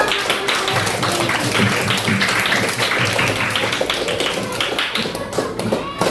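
Students in a classroom clap their hands together, a dense, steady round of applause that carries on for about six seconds at a strong, even level.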